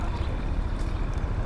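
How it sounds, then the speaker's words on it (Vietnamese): Boats on a river beside a canal in Mỹ An town, Đồng Tháp, heard as a low continuous engine and water rumble with wind buffeting the microphone, fairly loud and unbroken. "Tàu thuyền ở miền Tây sông nước à"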